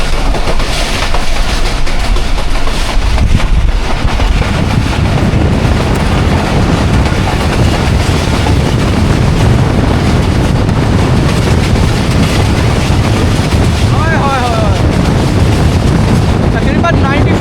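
The Jaffar Express runs at full speed, about 95, through a railway station between Attock City Junction and Rawalpindi, with a loud, continuous rumble, clattering wheels and heavy wind buffeting the microphone throughout.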